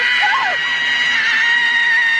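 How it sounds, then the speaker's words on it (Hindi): A woman's shrill horror scream from the film Raaz rises and wavers loudly over a sustained high, piercing wail, filling the whole short moment without pause. "असली चुड़ैल की थी वो चीख जो हमें राज फिल्म में सुनाई दी थी"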